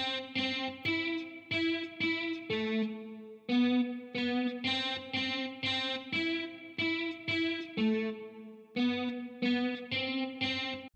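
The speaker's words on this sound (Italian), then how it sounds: "La seconda melodia della chitarra è questa." An electric guitar melody processed through Guitar Rig effects with chorus, distortion, reverb and a stereo imager, playing a repeating phrase of plucked notes with a steady rhythm and short pauses between phrases, loud and alone.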